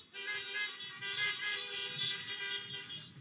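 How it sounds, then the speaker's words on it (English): Many car horns honk together at a drive-in high school graduation for the class of 2020, a dense, sustained blare that starts abruptly and holds for about three seconds with no talk. "please flash your lights and honk your horns"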